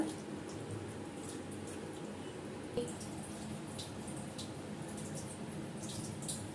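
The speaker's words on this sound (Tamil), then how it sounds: "ஸோ வாட்டர் இதில் ஆட் பண்ணிடுங்க." Water poured into a pot of basmati rice for chana biryani, a soft continuous splashing and trickle heard close up at low volume, with no voices.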